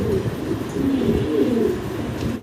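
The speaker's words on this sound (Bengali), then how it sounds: "বিশাল সাইজের এক জোড়া সাদার ভিতরে শৌকিং কবুতর আমেরিকান শৌকিং" Large white American Shouking pigeons coo in a steady, overlapping low murmur, close and fairly loud, continuing throughout without pause or any voices.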